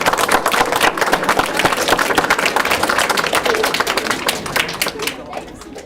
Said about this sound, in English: So let's give our wonderful students a nice round of applause